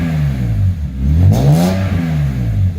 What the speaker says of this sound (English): The engine started first time.